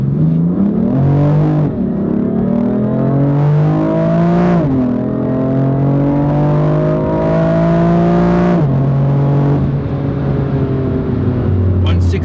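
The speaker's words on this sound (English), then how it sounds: "It sounds savage, loud, crackles everywhere, bubbles, downshift crackles, bubbles." A BMW M4 LCI Competition rear-wheel-drive coupe revs loudly up and down through several rising and falling engine sweeps, with exhaust crackles on the downshifts, close and aggressive.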